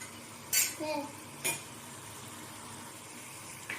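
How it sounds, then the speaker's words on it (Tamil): Coriander leaves frying with tomatoes in a pan for chutney, a low sizzle broken by a few brief spoon scrapes and clinks against the pan. "இப்போது கொத்தமல்லி தலை சேர்த்து நல்லா வதங்கட்டும்"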